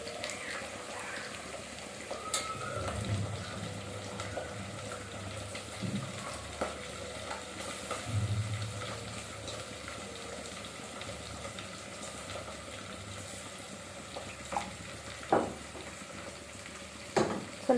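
Pulao masala frying in a pan, a steady soft sizzle with occasional scrapes and stirs, close and moderately quiet throughout with no talking.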